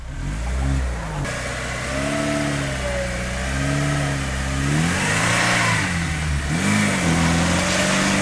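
A car engine revs repeatedly on a wet dirt track, loud and close, its pitch rising and falling in repeated surges of throttle with no talk.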